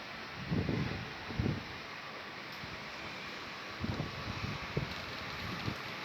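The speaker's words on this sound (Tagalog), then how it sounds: "Malakas nga ang hangin siguro." Steady typhoon wind in Hong Kong roaring and buffeting across the microphone, with a few low rumbling gusts rising and falling throughout.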